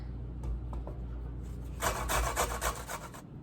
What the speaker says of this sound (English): So I'm going to start off by grating down our sweet potato.